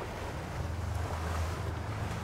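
A motorboat drives on the open ocean, giving a steady low engine rumble mixed with rushing water and wind buffeting the microphone throughout.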